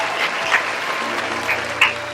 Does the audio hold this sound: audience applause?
yes